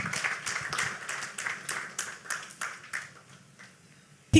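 An audience at a national consumer protection stakeholder summit claps for a speaker, steady applause that thins out and fades over a few seconds.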